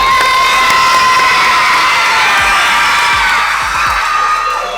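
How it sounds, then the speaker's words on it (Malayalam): Schoolchildren at a school event cheering and shouting in welcome of a visiting team, a loud continuous crowd roar of young voices that eases slightly toward the end. "കൈയടിച്ച് സ്വാഗതം ചെയ്യാം"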